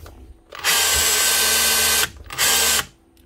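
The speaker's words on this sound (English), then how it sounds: "we have a Makita SDS drill" A Makita SDS hammer drill whirs loudly for about a second and a half, stops briefly, then runs again in a shorter burst, a steady high-pitched mechanical drone.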